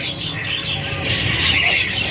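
Parakeets squawk and chirp in a busy kiosk at Pramuka bird market, with harsh calls rising over a steady, crowded market din.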